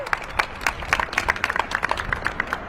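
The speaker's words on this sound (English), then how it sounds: "Let's give him a big round of applause." Light, scattered clapping from a small crowd at an outdoor ceremony dedicating a Johnny Cash 90th birthday marker in Hendersonville. Individual claps are distinct and uneven rather than a full roar.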